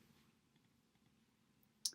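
A single sharp computer mouse click lands near the end of an otherwise quiet stretch with faint low room hum.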